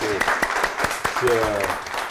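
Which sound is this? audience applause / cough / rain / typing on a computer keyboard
audience applause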